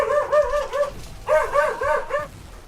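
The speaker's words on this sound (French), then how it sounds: "Le chien qui joue. Le chien s'énerve." A dog in the Legion TD 2 video game barks in two quick bursts of repeated yapping barks, loud and close, with no talk over it.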